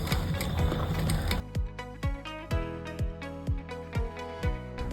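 A sewing machine runs fast stitches through fabric for about a second and a half, then drops to a slower, even run of single clicking stitches, close and fairly loud.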